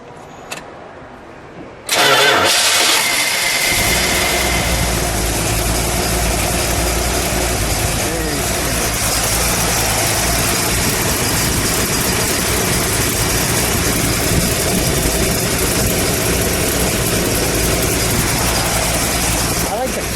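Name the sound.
1970 Dodge Challenger 340 V8 engine idling and revving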